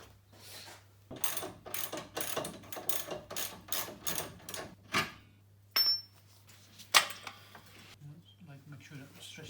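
Ratchet wrench undoing a 15mm bottom shock absorber bolt on a Ford Fiesta ST150 rear axle: repeated quick clicking bursts, close and moderately loud, broken by brief pauses, with a steady low hum underneath and a couple of sharp metallic knocks.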